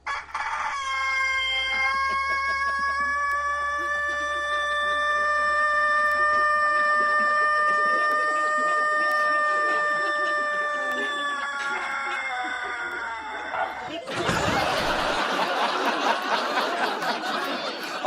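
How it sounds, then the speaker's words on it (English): A rooster in Cumbria, holder of the record for the world's longest crow, lets out one very long sustained crow that lasts about fourteen seconds. It ends abruptly in a burst of broadband noise. "the new record holder of the world's longest crow"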